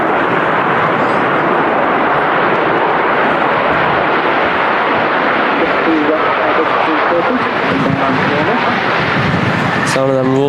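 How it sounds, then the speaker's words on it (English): An airliner's Rolls-Royce engines roar loudly through clamshell thrust reversers on landing at Manchester Airport, a dense, sustained rumble with a person talking over it. "Sound of them Rolls Royces to the clamshell reversers."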